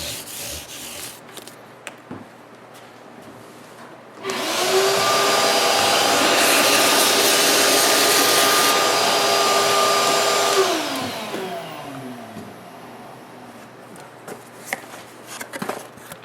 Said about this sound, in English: Now I'm just going to give the board a quick vacuum.